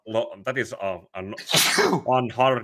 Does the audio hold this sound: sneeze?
yes